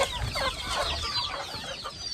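Chickens and chicks clucking and cheeping in a poultry setting, a busy overlapping chorus of close bird calls running steadily throughout with no talk.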